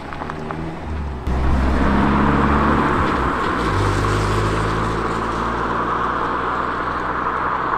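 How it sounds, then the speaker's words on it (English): A car pulls up beside a parked camper van at night, its engine idling with a deep low rumble that starts abruptly and holds steady and close, alone with no voices. "Car's just pulled up, and it sounds like they're walking around the van."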